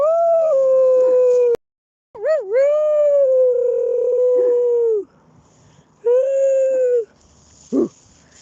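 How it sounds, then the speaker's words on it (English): A dog gives broken, wavering howl-like woofs that rise and bend in pitch, loud and close, in several bursts separated by short pauses, followed by a brief final yelp. "Did you hear that? Little it's like a broken woof."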